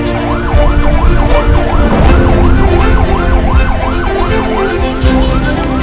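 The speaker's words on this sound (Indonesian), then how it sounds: "ada ambulan Pak, geser Pak." An ambulance siren wails loudly and close by in traffic, its rising and falling tone repeating steadily over the rumble of road vehicles.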